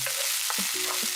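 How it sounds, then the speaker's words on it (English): Onion frying in hot oil with ginger garlic paste, a steady close sizzle with a few soft stirring scrapes and bumps. "Fry the onion until they become translucent"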